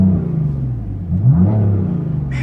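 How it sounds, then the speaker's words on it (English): A 2016 BMW M3 in Frozen Silver revving its exhaust, a loud close deep rumble that rises and swells in the middle as the engine climbs, then settles back to a steady drone. "Man, it's a nice sounding exhaust."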